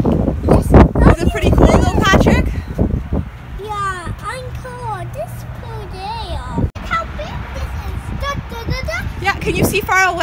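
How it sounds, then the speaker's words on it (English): Strong wind buffets the microphone outdoors during a telescope try-out, a steady low rumble running throughout beneath children's and adults' voices. "There's too much wind."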